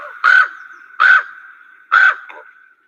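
A raven gives three loud, harsh, croaky caws at a steady rhythm about a second apart, with a gravelly rasp and a shorter fourth note at the end, clear and close over a sustained low hum.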